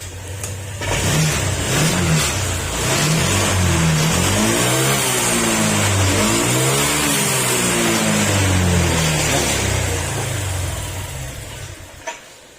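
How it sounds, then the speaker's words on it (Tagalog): A Honda Click 125 scooter engine, freshly top-overhauled and faulty, runs unevenly nearby, its revs surging up and down in a wavering, unstable rhythm before dying away at the end. "Yan, mamatay-matay pa yung makina niya."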